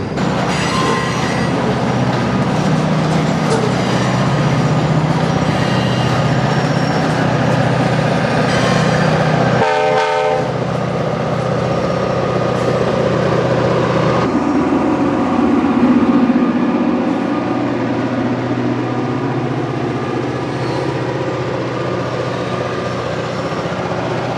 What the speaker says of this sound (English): Listen to how loud this GP38 is as it shoves these heavy cars up the line and towards the mill.